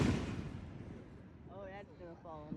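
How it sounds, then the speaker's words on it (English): Consumer fireworks set off at night send out a loud broadband burst at the start, then a low crackling rumble lingers while someone talks excitedly over it. "Hey, their fireworks are pretty too."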